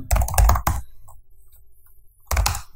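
A computer keyboard is typed on in quick bursts of close, crisp key clicks, a pause of near silence, then another short flurry, while a helm package command is entered.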